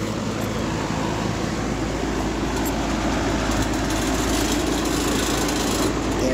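Goodman AC compressor straining to start, a steady loud motor hum with a buzzing rattle from the condenser cage running continuously and close.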